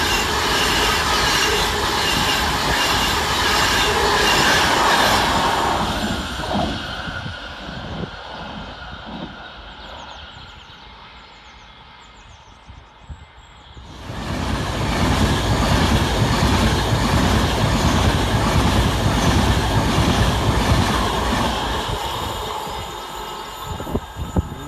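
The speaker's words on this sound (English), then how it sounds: "Next to pass for Avanti West Coast is 390-141, working 1 Alpha 38 from Manchester Piccadilly to Milton Keynes" An Avanti West Coast Class 390 train roars through Kidsgrove station, loud and close, with rushing wheel and carriage noise. It fades briefly midway, then surges back as the train continues past.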